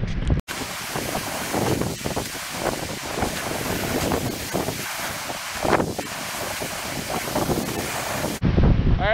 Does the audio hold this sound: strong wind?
yes